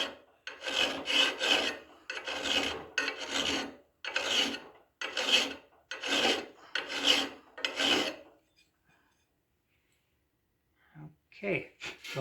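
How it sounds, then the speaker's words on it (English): Steel knife bevel being hand-filed down to a scribe line, a close, rhythmic series of about eight rasping strokes followed by a pause and a couple of brief handling sounds. "We want to kind of file right down to it."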